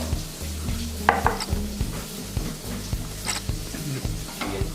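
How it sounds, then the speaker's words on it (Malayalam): Soft sizzling of cashews and raisins frying in ghee in a pressure cooker, with scraping stirring strokes and light clinks of a utensil against metal, fairly close. "അണ്ടിപ്പരിപ്പ് മുന്തിരിയും വറുത്ത് കോരിയിട്ടുണ്ട്"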